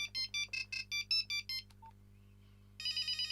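A 1998 Nokia 5110 mobile phone plays a ringtone: a quick run of bright electronic beeps in a steady rhythm, a short pause with a couple of faint tones, then another rapid burst of beeps, close and clear.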